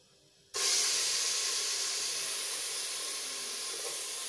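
Two mashed onions hit hot oil in a pan for malai boti. After a half-second of near silence, a loud sizzle bursts in and holds as a steady, dense hiss that fades only slightly.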